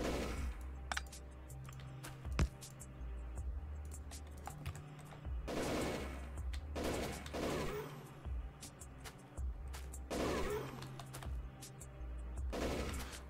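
Submachine gun fire in Factorio, bursts of rapid shots crackling alongside turret fire and game effects, with a steady low hum underneath and dense volleys recurring through the stretch.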